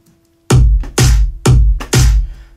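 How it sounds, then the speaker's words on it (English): A processed clap sample from a music production hits four times in an even rhythm over a deep low thump, sharp and loud with bright noisy bursts and short decays. "Then we have some claps."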